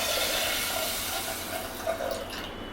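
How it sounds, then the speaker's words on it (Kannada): Water pouring into a small pressure cooker holding washed lentils, a steady close gushing fill that runs continuously and thins toward the end, with no voices. "ಅರ್ಧ ಚೊಂಬು ನೀರು ಹಾಕಿದ್ದೀನಿ."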